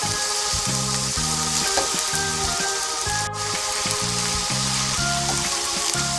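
Lemongrass chicken in a single pan with brown sugar and fish sauce, a steady close sizzle over a patterned, rhythmic low background.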